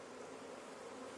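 Honey bees crawl into a freshly split hive, a steady close insect hum and buzz filling the moment without pause.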